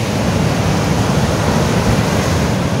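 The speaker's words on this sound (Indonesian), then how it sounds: "suasana pagi di Pantai Madasari Pangandaran" Morning surf at Madasari Beach, Pangandaran, rolls in as a dense, steady roar of breaking waves. Broad and continuous, it is mixed with wind buffeting, and no one speaks.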